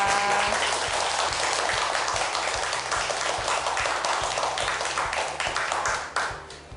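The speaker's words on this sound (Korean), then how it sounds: "다시 한번 큰 박수 부탁드립니다" An audience applauding warmly, dense clapping at a steady level that thins out and fades near the end.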